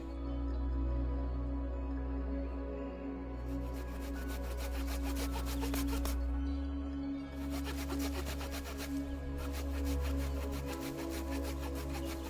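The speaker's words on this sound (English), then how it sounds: "we get our knife and we make fine shavings along that dry wood" A knife scrapes fine shavings from dry wood to make a bushcraft feather stick, a series of close, rhythmic rasping strokes with short pauses between them over a constant low hum.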